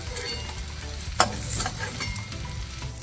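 Ingredients for navratan korma fried until lightly browned in hot oil in a pan, a steady close sizzle with stirring scrapes and one sharp clink near the middle, without any talk.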